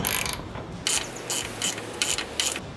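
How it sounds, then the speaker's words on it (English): Short bursts of ratcheting clicks come from a 10mm wrench tightening a tailgate assist bolt on a Ford F150, several quick close clicking runs separated by brief pauses. "we're going to use just the wrench to tighten it."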